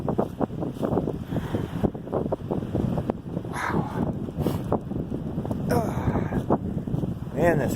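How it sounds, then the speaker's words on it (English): Strong wind buffets the microphone in a steady, heavy rumble that continues throughout, with a voice talking over it. "Man, this wind."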